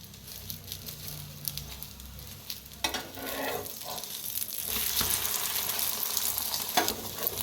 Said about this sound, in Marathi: आता ना दोन्ही साईडला तभी करून भाजून घ्या तेल वरण बी असं तेल लावायचं